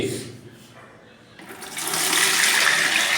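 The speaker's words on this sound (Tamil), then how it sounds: "மிச்சத்தை அந்த வாளியில் ஊற்றி" Liquid fertilizer solution pours in a strong, rushing stream into a bucket, growing louder and fuller after a brief quieter moment.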